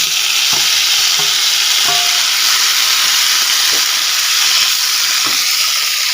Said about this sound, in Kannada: ಈರುಳ್ಳಿ ಒಳ್ಳೆ ರೀತಿಯಲ್ಲಿ ಫ್ರೈ ಆಗಲಿ ನೋಡಿ ಈರುಳ್ಳಿ ಕೆಂಪಾಗಿದೆ